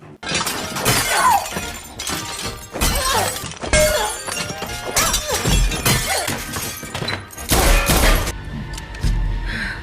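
Glass plates shatter repeatedly during a film fight scene, with loud bursts of breaking glass, crashes and thuds coming in rapid succession over several seconds.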